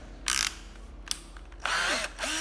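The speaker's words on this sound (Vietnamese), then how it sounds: "Khoan Hitachi 12V nha mọi người." A Hitachi 12V cordless drill runs in short bursts, a close high whine that spins up, stops and starts again, with ratcheting clicks between runs.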